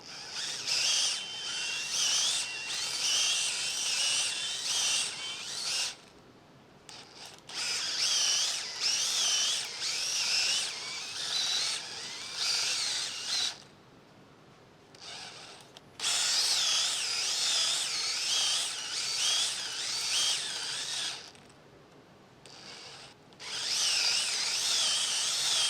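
A diamond hone driven by an electric drill strokes inside a cylinder of a 134ci Willys Jeep Hurricane engine, a loud steady whine running in several long bursts with short pauses between them.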